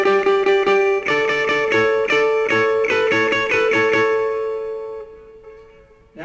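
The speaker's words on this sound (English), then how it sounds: "So here's that riff without the delay." A dry electric guitar plays a repeating arpeggiated riff, with crisp plucked notes in a steady rhythm and no delay effect; it rings out and fades at the end.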